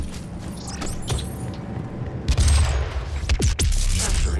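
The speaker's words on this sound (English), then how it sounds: "I heard the gun" Gunfire in a competitive online video game crackles in short bursts and single sharp shots, then grows louder in rapid volleys near the end, with no speech over it.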